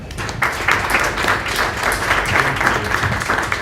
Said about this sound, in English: let's give a big round of applause for Babitoff